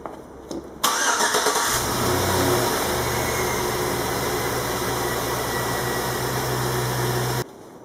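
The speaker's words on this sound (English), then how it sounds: "I'm going to go ahead and start this engine up" A 2006 Chevrolet Tahoe engine cranks and catches, then settles into a steady, low idle hum that runs on evenly before stopping.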